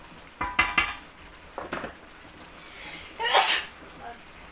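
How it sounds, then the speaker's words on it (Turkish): Several loud, close sneezes burst out in a home kitchen where green beans are being cooked, with faint clinking of pots and utensils between them. "bu hapşuruk bende bu 2-3 günden beri böyle var ya günlük 20 kere Hapşırıyorum"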